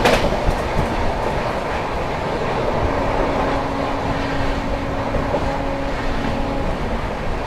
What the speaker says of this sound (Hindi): सामने से आ रही है Mumbai LTD Pataliputra superfast express